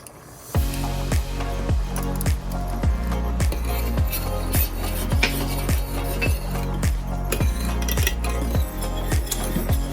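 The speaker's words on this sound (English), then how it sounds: "we're just going to stir that butter in there" Salted butter stirred into a bourbon sauce in a pan, a close, loud, rhythmic spoon scraping with about two strokes per second that keeps going steadily throughout.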